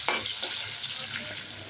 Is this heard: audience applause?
no